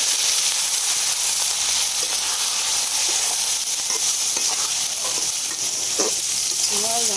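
Vegetables sizzle and fry in a hot pan while a fish curry with eggplant and potato cooks, a loud, constant frying hiss that never stops, with faint stirring knocks toward the end.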